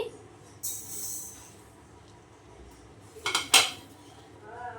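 Semolina stirred in a metal pan for a Bengali sweet, giving sharp clinks and scrapes of utensil against the pan in a few bursts between quieter stretches.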